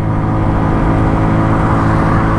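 A Superlight 125 motorcycle engine pulls steadily in third gear on a road ride, with a loud, close, continuous drone and no speech.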